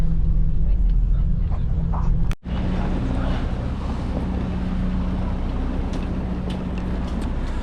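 Constant broadband rumble of wind and engine noise, like riding on a boat at sea, with a brief dropout partway through.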